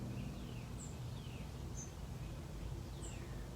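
Morning birdsong heard outdoors from a porch: a few faint, distant chirps and whistled notes spaced about a second apart over a soft, steady background hiss.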